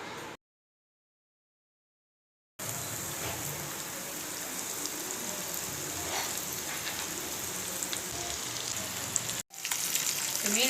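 Mackerel coated in homemade masala fries in a pan, a steady hiss and crackle of sizzling oil that runs for several seconds after a short silent gap, then is briefly cut near the end.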